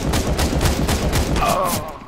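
Rapid bursts of Counter-Strike gunfire crack out in quick succession, loud and close, with a faint voice underneath.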